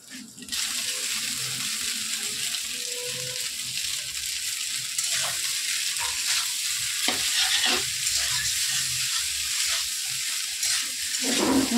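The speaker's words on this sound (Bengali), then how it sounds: "এবার দিয়ে দেবো পাস্তাটা, সেদ্ধ করে রাখো পাস্তাটা।" Boiled pasta is tipped into a frying pan and stirred, giving a steady, close sizzle with scraping, clattering spoon strokes throughout, and no talking.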